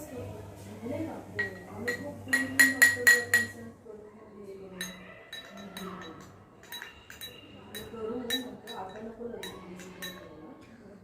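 Spoons clink against bowls as ingredients are mixed with lemon juice at a junior science demonstration, a quick burst of bright metallic taps early on, then scattered lighter clinks with a voice talking throughout.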